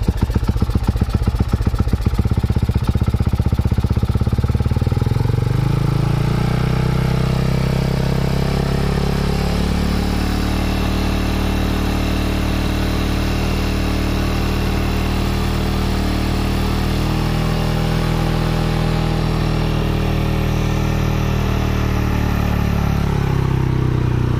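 A Rusi Sigma 250cc motorcycle engine fitted with a Keihin flat slide carburetor idles loudly and steadily up close, a brief revving burst at the start settling into an even, throbbing idle.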